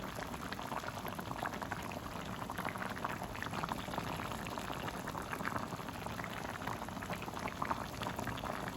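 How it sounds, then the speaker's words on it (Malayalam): Para fish curry simmers in an open pot, giving a continuous, gentle bubbling and popping that stays faint and even throughout, with no one talking. "തുറന്ന് വെച്ച് തന്നെ ഒരു 20 മിനിറ്റ് മീനിനെ ഒന്ന് കുക്ക് ചെയ്തെടുക്കാം"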